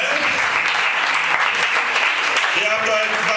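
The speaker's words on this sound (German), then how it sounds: "auch einen herzlichen Applaus nochmal für Linda und" Audience at an acoustic poetry slam stage event claps steadily and loudly from start to finish, a dense continuous wash of hands, with voices faintly audible beneath.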